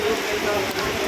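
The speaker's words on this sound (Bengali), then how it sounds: "আজকে খুব ভয়াবহ বৃষ্টি হচ্ছে।" A brief burst of heavy rain pours down in a desert city, a dense, steady hiss of water close by.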